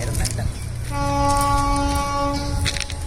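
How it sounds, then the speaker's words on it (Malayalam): A train rumbles past nearby while a sustained horn blares for over a second, with clattering noise around it. "ട്രെയിൻ"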